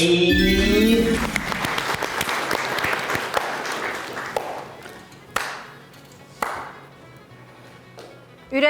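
A studio audience at a comedy show applauds: a loud dense burst of clapping at the start thins out into scattered, fading claps with a few sharp isolated slaps at the end.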